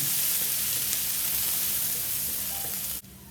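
Garlic sautéing in a hot pan, a steady bright sizzle of frying oil that holds evenly before dipping abruptly near the end, with no talking.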